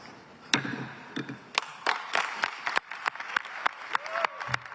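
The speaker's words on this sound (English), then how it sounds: "Don't be fooled by the applause." Delegates applauding at the close of the climate summit in Baku, scattered uneven claps with distinct sharp individual hits rather than a full roar, moderately distant and fairly quiet.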